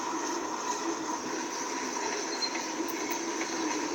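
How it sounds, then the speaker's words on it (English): Heavy freight train hauling locomotives, chip cars, coal cars, auto racks and reefers in the Trainz (T:ANE) video game, a steady, moderately quiet rolling rumble with faint wheel hiss and squeal throughout. "that's going to be a very heavy train"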